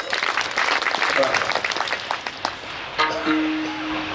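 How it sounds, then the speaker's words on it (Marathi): An audience at a kirtan claps for the maharaj, a crowded burst of applause that fades after a few seconds, with a voice speaking over it and a brief tone near the end. "एकदा आमच्या महाराजांसाठी मनापासून टाळी वाजवा."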